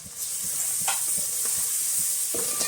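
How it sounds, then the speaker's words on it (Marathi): A paste of roasted coconut and onion frying in oil for a mutton curry, giving a steady close hiss and sizzle with soft periodic stirring strokes. "तेलावर छान असं परतून घेऊ तेल सुटेपर्यंत"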